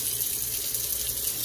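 Water pours steadily into a monotub of pellets for growing Lion's Mane mushrooms, a continuous close, bright splashing gush without a break or voices.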